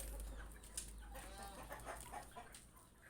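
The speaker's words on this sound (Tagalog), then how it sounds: "Andyan yung aking mga manok." Backyard chickens cluck softly at close range in a brief, low-level burst of scattered clucks and murmuring fowl calls, quiet and without any talking.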